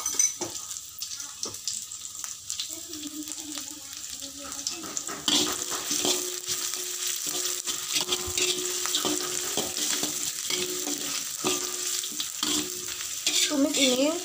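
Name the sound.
shallots sautéing in a pan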